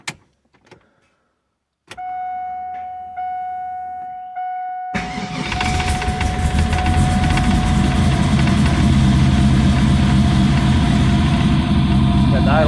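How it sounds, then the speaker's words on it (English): An LS3 V8 car engine fitted with 317 cylinder heads and an LS1 cam, heard first as faint clicks and an electronic whine, then catching and running with a loud, rough, rising idle and revs that fill the rest of the clip. "rev it up now that the engine's got some heat in it"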